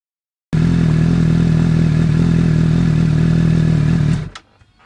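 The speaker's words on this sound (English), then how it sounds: "we need to run the engine, get some oil in that new filter" A Suzuki GSX-S750 motorcycle engine starts abruptly after an oil and filter change and idles loudly and steadily for several seconds, then cuts off with a brief clatter before near-silence.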